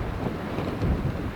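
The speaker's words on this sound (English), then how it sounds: "It is crazy windy." Strong wind buffets the microphone on a homestead, a brief burst of loud, rough rumbling gusts with nothing else audible.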